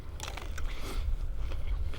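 Biting into a dehydrated Emerald Beaut plum, a couple of brittle, close crunches followed by chewing over a low background rumble, no talking.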